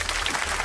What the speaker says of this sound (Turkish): Alkışlayalım lütfen.